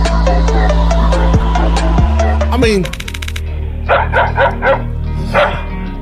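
A dog barks repeatedly while defending its territory, with loud, close, rapid barks and yips, then a metallic rattle, followed by a few more sharp barks.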